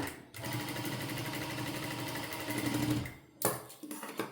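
A sewing machine stitches a blouse for Onam, running at a steady rapid whir for about three seconds, pausing briefly, then starting again in short bursts, loud and close.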